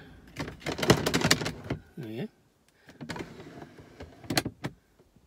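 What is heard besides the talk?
drawer opening in Mercedes SLK R170 car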